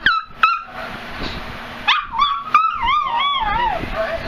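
A ShiPoo puppy whimpers and yips in a series of high, wavering cries with a few short sharp yelps, close and fairly loud, with brief pauses between.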